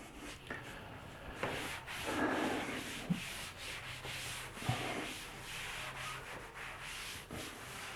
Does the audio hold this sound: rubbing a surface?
yes